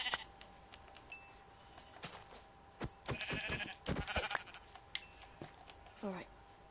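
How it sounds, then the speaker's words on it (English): Sheep bleating in the Minecraft video game, several short bleats at moderate level, with a rising bleat near the end over quiet background game sounds. "Oh, another black sheep."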